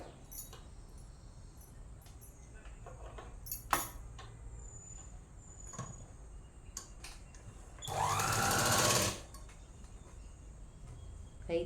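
A sewing machine stitches a chudidhar top with steady, close whirring. Scattered clicks and handling sounds are heard around it, and a loud run of about a second comes near the end.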